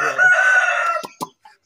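Silver Laced Wyandotte chickens on a rooftop coop, one crowing loudly and close for about a second, followed by a few short clucks and calls.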